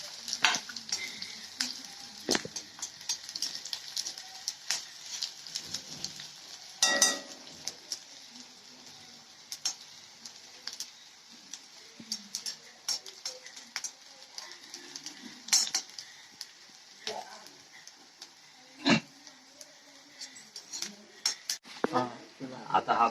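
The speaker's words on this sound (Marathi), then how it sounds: "आता हे बारीक चिरलेला कांदा मध्ये ब्राऊन होईपर्यंत, थोडंसं ब्राऊन कलर येईपर्यंत त्याला भाजायचं" Finely chopped onion frying until brown in a pan, a soft continuous sizzle broken by frequent sharp clinks and scrapes of a spoon stirring against the metal.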